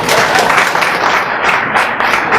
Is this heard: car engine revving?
no